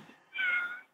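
A pet cat gives a single drawn-out meow, fairly faint and heard alone.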